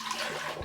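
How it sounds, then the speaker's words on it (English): Water is poured into a stand mixer bowl for low-carb seeded wholemeal-style brown bread, a short close splashing gush with no talk. "So the first thing you want to add into this is your water."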